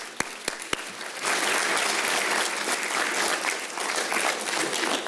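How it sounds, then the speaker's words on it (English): A conference audience applauds: a few sharp isolated claps, then a full, even wave of clapping that holds steady to the end. "so a round of applause for them."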